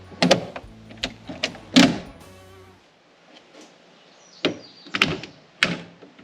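A 1939 Packard Eight 120 Series car door is opened and slammed shut several times, sharp solid thuds with latch clicks in between, close by and with no talking.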